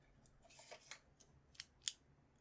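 A retractable pen clicks a few times at close range, giving sharp, crisp, faint clicks that grow louder, with the last click the most distinct against a quiet background.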